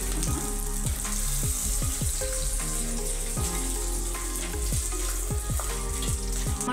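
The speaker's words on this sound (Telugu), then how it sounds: "మిర్చి కూడా ఫ్రై అయిపోయింది" Red chillies fry in oil in a pan for Andhra-style gongura chutney, making a continuous loud, bubbly sizzle with occasional crackles throughout.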